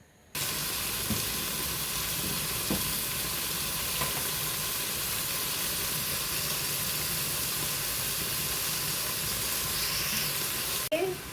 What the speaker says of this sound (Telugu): చూడండి చికెన్ కూడా బాగా ఫ్రై అవుతుందన్నమాట